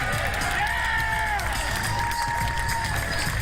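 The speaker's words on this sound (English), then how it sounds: "A round of applause for Gideon" Steady applause and cheering from a crowd at a ribfest, continuous and dense, with a few voices calling out over the clapping.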